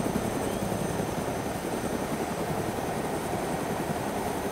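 Continuous whirring drone of several helicopters' rotors in the video game DayZ, dense and steady throughout, with no voices.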